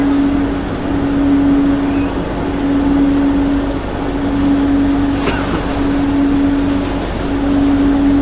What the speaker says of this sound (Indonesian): Ini kereta ini berbasis CBTC ya, Communication Based Train Control.